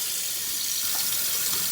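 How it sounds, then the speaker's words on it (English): Kitchen faucet, a Delta 2497LF, runs steadily after its spout o-rings were replaced, giving a continuous close hiss of water flowing into the sink with no talk. "now when I turn on my faucet, I can turn on hot and cold"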